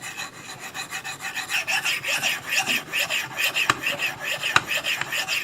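A knife drawn repeatedly along a sharpening rod, giving steady rhythmic rasping strokes about twice a second, close and clear, with a couple of sharper metallic clicks where the blade touches the rod.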